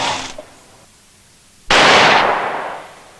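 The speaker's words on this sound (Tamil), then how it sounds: "அப்புறம் துப்பாக்கி சத்தம் கேட்டுச்சு சார்." Gunfire in a Tamil crime film scene: a short sharp report, a quiet gap, then one loud blast that rings out and slowly decays.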